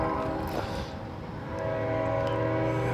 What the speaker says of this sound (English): we got a northbound Norfolk Southern coming here